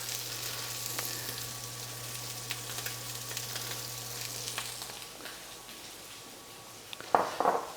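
Scallops pan-searing in a hot pan give a steady close sizzle with a faint hum underneath, which fades near the end before a few clinks of utensils.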